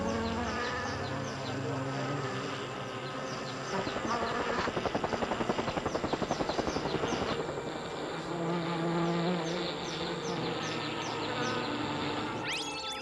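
A swarm of bees drones around a beekeeper, a dense layered buzz of many insects with individual wings flying past close to the microphone, swelling louder in the middle, then settling back, with no voices.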